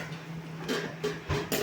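Popcorn kernels dropped into hot oil in a pot, a few short rattling clatters close by over a faint background hum, with no talking.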